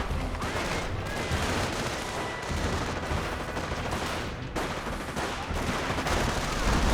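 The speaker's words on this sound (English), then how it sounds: "Rangers firing away" Continuous rifle and machine-gun fire from US Rangers in the Company of Heroes video game, dense overlapping bursts of shots rattling loudly throughout, with a brief dip midway.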